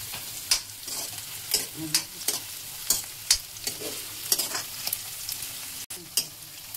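Onion frying in a wok of duck meat with little oil: a steady crackling sizzle with repeated sharp scraping stirs of a spatula roughly every half second, close and clear, no voices.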